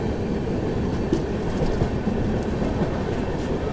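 An Ajmer–Sealdah superfast express passenger train runs along a single-line railway section, a loud, continuous rumble with rhythmic clickety-clack of wheels over rail joints, heard from close by throughout.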